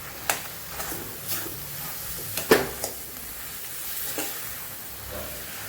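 A spoon stirs a pakoda bites mixture with spices and green coriander in a pan, giving a soft sizzle and hiss broken by occasional scrapes and knocks of the spoon against the pan.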